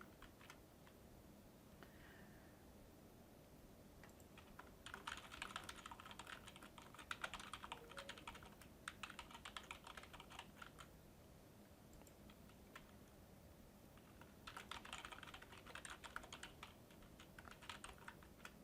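Typing on a computer keyboard, with steady soft key clicks in quick bursts that grow busier at times, close and fairly quiet, no talking over it.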